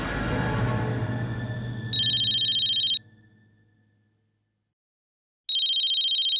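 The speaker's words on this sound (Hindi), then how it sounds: "पैम मुझे क्यों फोन कर रही?" A phone rings in two electronic trilling bursts separated by a pause, loud and close, after a fading low rumble, in a TV drama scene.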